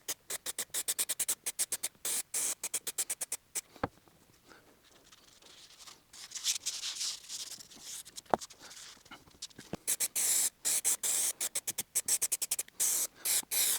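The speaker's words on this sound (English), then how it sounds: "I'll spray a bit in the bin just to make sure the glue is spraying correctly" Spray glue hisses from a nozzle onto leather upholstery in a run of short, sharp bursts, with a longer continuous spray in the middle. The sound is close and fairly quiet, with no talking.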